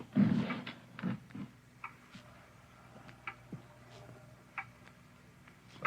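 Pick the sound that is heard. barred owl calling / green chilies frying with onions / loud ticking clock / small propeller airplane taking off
loud ticking clock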